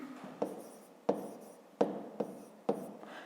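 Handwriting during a fifth-grade maths exercise, a pen or pencil tapping down and scratching across paper in five distinct strokes at an uneven pace, close and quiet, with no speech.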